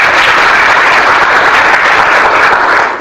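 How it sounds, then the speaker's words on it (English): Students clapping together in a communication skills class at Ramakrishna Math, Hyderabad, loud dense applause from a large group held steadily for about three seconds, then cutting off abruptly. "Clap well."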